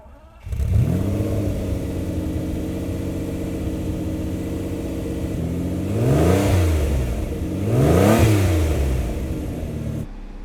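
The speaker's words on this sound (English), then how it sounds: "push in your clutch, turn her over, maybe give it a little bit of gas, and she'll fire right up." A Lamborghini Countach's engine cranks and fires, settles into a steady loud idle, then rises in two strong revs before cutting off, close up with no talking.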